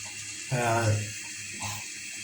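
Red lentils are rinsed under running water, with a brief gush and splash of water around the middle of the clip that swells and then settles back into a quieter trickle. Nobody speaks.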